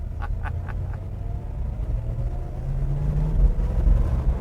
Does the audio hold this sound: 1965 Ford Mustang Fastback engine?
yes